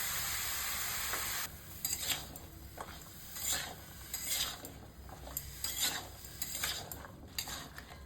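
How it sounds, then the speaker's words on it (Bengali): Chopped bottle gourd sautéing in a pan with salt and turmeric: a steady close sizzle under repeated scraping stirs of a utensil against the pan, in irregular bursts, with no talking. "লাউটা কষানো হয়ে গেছে"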